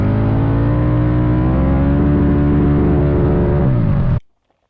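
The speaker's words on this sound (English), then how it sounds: "We want this Rotax to rev" A 680cc Rotax engine revs hard and holds at high RPM for about four seconds, loud and close with a steady harmonic whine, then cuts off abruptly into silence.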